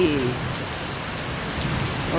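Steady rain pours down under a dark sky, a dense, even hiss of drops on surfaces that stays loud and unbroken throughout, with no voices.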